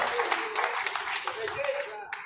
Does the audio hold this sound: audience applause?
yes